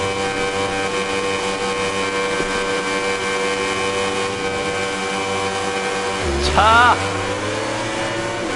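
Motorcycle engines at a race start at the Valencia circuit in MotoGP 19, a loud steady droning whine that surges into a sharp rising rev near the end, with a brief voice exclamation.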